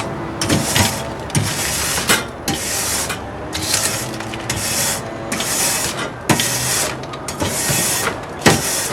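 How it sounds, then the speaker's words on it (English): A metal scraper is worked back and forth across the grates of a GMG Davy Crockett pellet grill, giving repeated rhythmic rasping strokes about once a second, close and fairly loud with sharp clicks between passes. "I'm going to use my scraper just to kind of get what's on the top there off. So just a couple nice back and forth movements."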